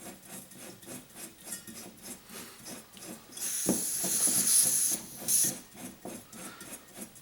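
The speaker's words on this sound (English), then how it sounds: "You'll hear a bit of gas when you're screwing it on." Butane gas hisses sharply for about two seconds as a canister is screwed onto an MSR PocketRocket Deluxe stove, then stops, with soft rubbing and threading noises around it.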